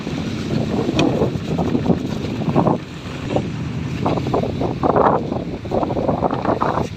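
A boat motor hums over open water with gusts of wind buffeting the microphone, the engine note rising and falling as the boat circles while fishing for bait.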